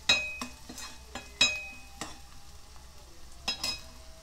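Ginger-garlic paste sizzles in a pan while a utensil stirs and clinks against the metal in irregular strokes, close and fairly quiet, with no talking.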